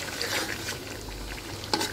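Homemade mango pickle bubbling in a pan as a spoon stirs it, a steady close scraping and sizzling texture with one brief sharper scrape near the end, no voices.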